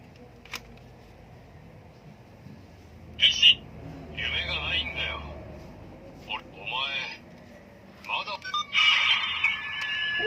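Electronic sound effects from a bootleg CSM Faiz Driver ver.2 toy belt, a string of short synthetic beeps and tones in bursts, loudest near the end over a low background hiss.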